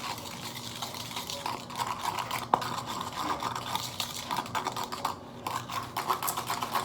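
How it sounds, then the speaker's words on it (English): A whisk scrapes and clicks steadily against a bowl, mixing hair dye with developer and a few drops of hair oil, a busy close-up texture of rapid small taps and swishes. "And I got my whisk. And we're just gonna develop away here."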